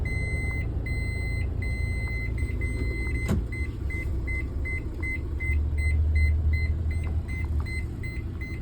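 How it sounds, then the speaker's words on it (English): A car's warning chime beeps over and over in a fast, regular pattern, clear above the low hum of the idling vehicle. "if you're overheating or there's a problem with like the engine or something, it'll start beeping"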